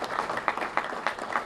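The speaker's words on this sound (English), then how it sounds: "How about a round of applause for her" A crowd applauds Dr. Deborah Barnhart at a ribbon cutting for the new Gate 9 at Redstone Arsenal. The clapping is brief, dense and steady, with a few sharper claps standing out.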